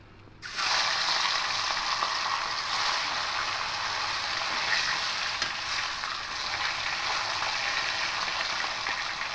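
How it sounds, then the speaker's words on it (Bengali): Silver carp pieces fry in mustard oil with a loud, steady sizzle that starts abruptly and crackles continuously, close up, with no talk. "বাকি মাছগুলো এভাবে উল্টে পাল্টে লাল লাল করে ভেজে নেব"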